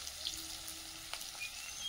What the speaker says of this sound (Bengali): লবণটা এখন দিলাম, পেঁয়াজটা তাড়াতাড়ি ভাজা হয়ে যাবে।